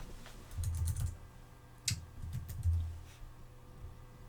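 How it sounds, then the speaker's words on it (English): Soft keystrokes on a computer keyboard come in a few quick clusters with short gaps as a name is entered, close and quiet with no talking. "So we can type a name in here."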